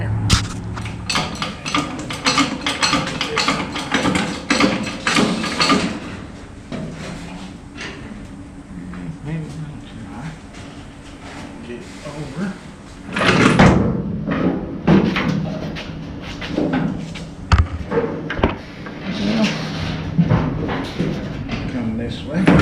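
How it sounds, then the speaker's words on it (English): Fitting and bolting a door onto a 1977 Pontiac Trans Am during reassembly, with clunks, thuds and metallic handling sounds under ongoing talk, a louder bang about midway. "so we can start the bolts and get the door on there"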